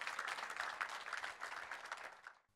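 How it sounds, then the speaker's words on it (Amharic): A church congregation at a gospel prophetic service claps for the Lord, a soft, fairly distant patter of many hands that carries on steadily before tapering off and stopping abruptly at the end. "አጨብጭቡ ለጌታ"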